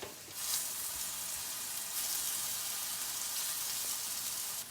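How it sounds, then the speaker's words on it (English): Cubes of paneer fry in a pan until browning, giving a soft, even, continuous hiss of sizzling oil that stays faint and steady, without speech. "In the meantime, we are going to fry the paneer."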